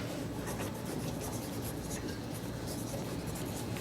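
Pencils scratching on paper as third-grade students write during a guided reading lesson, a soft continuous scribbling texture at moderate distance with faint classroom murmur.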